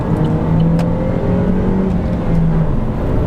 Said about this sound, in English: let's try an overtaking maneuver